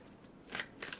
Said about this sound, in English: Let me shuffle and pull the third card.